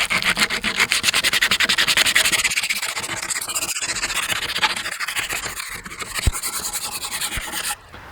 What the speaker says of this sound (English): So you can use an electric sander with this, but it's easy just to use your hand